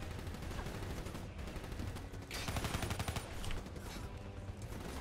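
Rapid gunfire from Call of Duty Black Ops 3, dense bursts of shots firing continuously and loudly throughout, with a heavier burst in the middle and faint game noise beneath.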